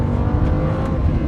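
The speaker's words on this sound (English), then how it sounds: "I'm driving here on a very tight mountain road with a bumpy surface" A Lamborghini Huracán, a powerful rear-wheel-drive car, drives a tight, bumpy mountain road, its engine droning loud and close in a brief steady run.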